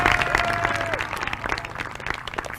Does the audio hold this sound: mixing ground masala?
no